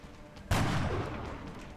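A sniper rifle fires once in the XCOM: Enemy Within video game, a sudden loud blast with a booming tail that decays slowly over the following second and more, alone with no talking.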